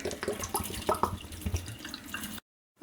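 Water running and splashing into a small pet drinker for a couple of seconds, close by, then stopping abruptly into silence before a brief clunk.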